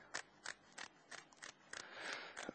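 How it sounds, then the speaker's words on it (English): Kitchen scissors snip the fins off a very fresh whole fish being filleted, about eight crisp, close cuts in a steady rhythm with faint handling noise between them. "I'm just going to cut the fins off"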